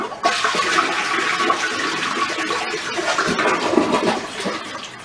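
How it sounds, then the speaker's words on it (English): A toilet flushing during bathroom cleaning, a loud continuous rush of water swirling and draining for about five seconds, close and steady with no talking. "flush it again"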